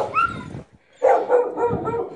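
Neglected stray dogs, left without food or water, give a few close, loud barks followed by whimpering yelps, with no one speaking.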